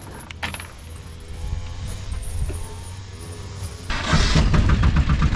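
A boat motor on Lake Eğirdir, Turkey, turns over and roars into life near the end, loud and close, after a stretch of low rumbling and rattling.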